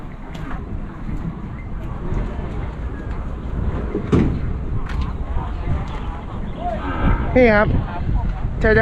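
Cattle at a cow and buffalo livestock market in Lopburi, Thailand. A deep moo sounds near the end over a constant rumble of background noise, and people talk around it.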